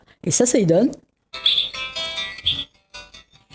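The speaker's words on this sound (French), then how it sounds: "Et ça, c'est le chant du tutuit réellement." Bright calls of a Réunion cuckooshrike on Réunion Island: a quick burst of sliding chirps, then a run of high whistled notes with short pauses, close and clear.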